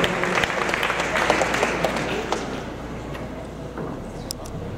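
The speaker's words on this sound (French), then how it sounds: "applaudit très fort Camilla de Vampire Interdit" Audience at a cosplay contest at Japan Expo claps loudly, dense applause that gradually thins and fades toward the end.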